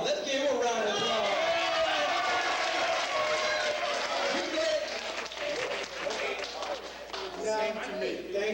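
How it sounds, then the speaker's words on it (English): A crowd at a cowboy entertainment show claps and cheers in a loud, dense wash, with voices mixed in throughout as the applause carries on steadily. "Let's give him a round of applause."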